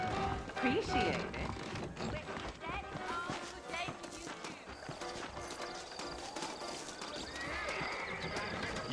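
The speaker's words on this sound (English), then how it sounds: "I got the horses saddled up and ready out front." Horses in the Red Dead Redemption (2010) video game neigh and whinny while their hooves clop steadily nearby. Spoken dialogue and other game sounds run underneath.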